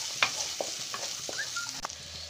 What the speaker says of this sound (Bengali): আর পেঁয়াজ কলিগুলো। আমি খুব ভালোভাবে ভেজে নেব।